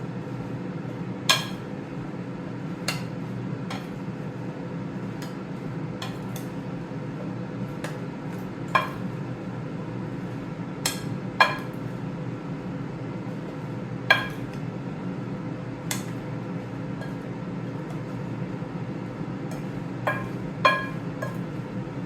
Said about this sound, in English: Make sure everything is mixed together, all your spices.